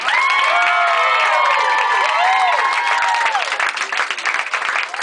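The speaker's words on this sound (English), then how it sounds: "Start clapping now for your next comedian." A comedy club audience claps and cheers to welcome the next comedian, Rob Rolling, loud sustained applause mixed with whoops and shouts, with an MC's voice carrying over the crowd.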